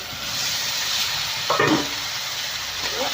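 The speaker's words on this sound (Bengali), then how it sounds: "আবারও ভালো করে নাড়বো।" Spatula stirring fried jackfruit and potatoes with spices and green chillies in a frying pan, a steady broadband sizzle with a brief louder scrape of stirring midway, close and alone without talk.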